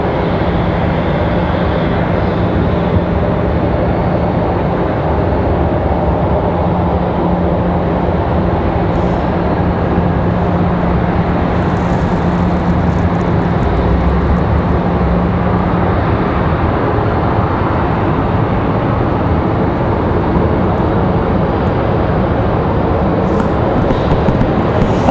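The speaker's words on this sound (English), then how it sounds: "Our Cessna Citation Bravo." A Cessna Citation Bravo business jet at Raleigh-Durham International Airport produces a loud, steady broadband roar with a low hum, continuous and close throughout, with no talk.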